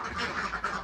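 Ducks quacking in a farm pen around feeding time, a steady mid-range chatter of several birds close by, filling the short moment without pause.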